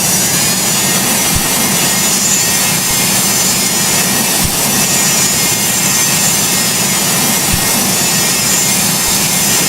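Boeing 727 jet engines roaring steadily at takeoff thrust in the Project Flight video game, a loud, continuous broadband rush with faint periodic thumps and no talk.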